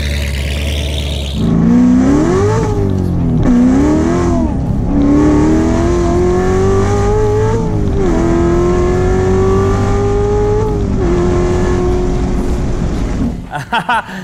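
A C7 Corvette making 850 horsepower revs and accelerates hard, its engine note climbing repeatedly through several upshifts, loud and close, then cutting off near the end.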